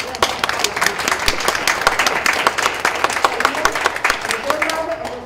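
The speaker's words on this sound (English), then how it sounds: "Let's give him a round of applause." Applause at a school board meeting, dense hand claps with sharp individual slaps rattling from a room full of people, sustained and close, with some voices mixed in beneath.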